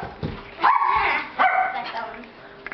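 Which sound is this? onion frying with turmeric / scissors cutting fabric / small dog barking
small dog barking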